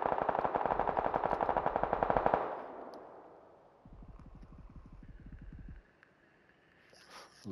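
Rapid automatic gunfire in PUBG, a loud fast burst lasting a couple of seconds, then a second quieter burst further off, with ambient noise between.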